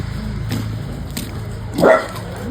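A dog gives a single sharp bark close by near the end of a short stretch, with a steady low hum underneath.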